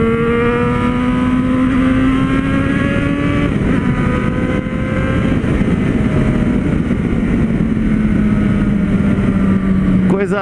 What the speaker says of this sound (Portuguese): Olha o ronco, escuta.